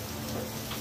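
Heavy rain mixed with hail pounds surfaces during a violent storm in Teruel, Spain, a dense, loud, continuous roar of impacts with no pauses or talking.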